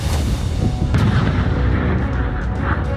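Explosions from an airstrike on Taliban fighters roll out as a continuous, loud rumbling barrage, with a sharp blast about one second in.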